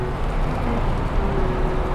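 Heavy rain pours during a motorcycle ride, a loud, broadband roar of downpour mixed with wind and engine rumble, continuous and unbroken throughout.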